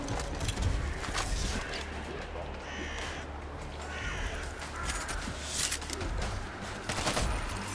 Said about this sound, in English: Machine gun ready!